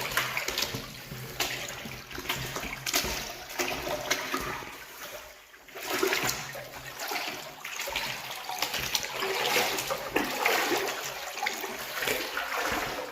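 Water rushing steadily through a culvert in a drainage passage, a continuous close splashing flow that stays loud for the whole stretch with slight surges and no talk.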